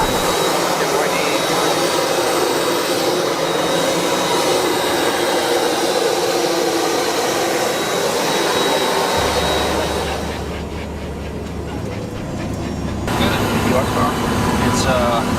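A private jet's engines and cabin produce a loud, steady broadband roar that dips briefly in the middle and then swells back, with no talk over it.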